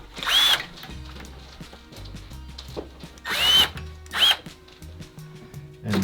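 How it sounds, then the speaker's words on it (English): A power drill fitted with a countersink bit cuts screw holes in three short bursts, each a loud whining spin lasting under a second, separated by quieter handling clatter and knocks. "What we've got is a countersink, and what that does is it will countersink the holes where I need to drill."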